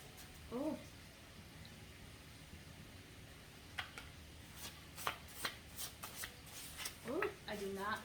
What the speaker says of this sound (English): Shuffling.